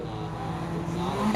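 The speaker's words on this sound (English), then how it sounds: "More of that rev limiter." A rally car's engine at the Overmountain Rally in Tennessee holds high revs against the rev limiter, a steady buzzing drone with slight stutter, fairly close and continuous through the brief moment.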